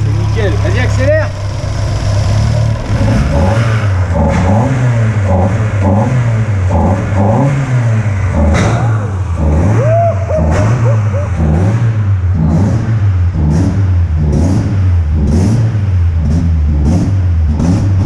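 Peugeot 206 S16 car engine revving repeatedly and accelerating up close, loud rhythmic rises and falls of a mid-pitched engine, with people talking over it.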